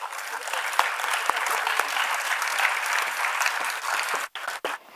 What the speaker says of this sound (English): Let us welcome Dr. Akhila Ramnarayan and Dr. Vigila Edwin Kennedy with a round of applause